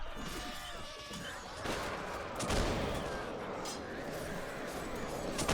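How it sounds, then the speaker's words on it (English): Jezzail rifles crack repeatedly amid a chaotic battle in the video game Warsword Conquest, with dense overlapping gunfire and crashes under someone talking. "they have these Jezzails up here just sniping people"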